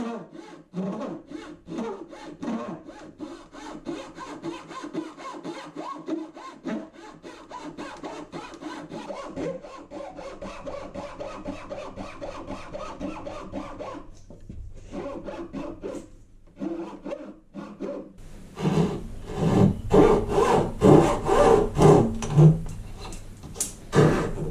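A handsaw cuts tenons in hardwood for a small chair, with steady back-and-forth rasping strokes close up, growing louder and more vigorous toward the end.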